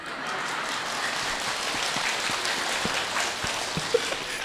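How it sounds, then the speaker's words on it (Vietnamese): An audience claps during a lighthearted Buddhist sermon, a soft, steady patter of many hands heard from some distance, fairly faint and continuous with no speech over it. "rồi vỗ tay hoài."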